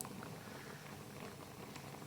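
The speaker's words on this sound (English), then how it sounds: "So like you see now, it is boiling" Moong and masoor lentils boil in a pot on the stove, giving a quiet, steady bubbling and light pattering with a few faint pops throughout.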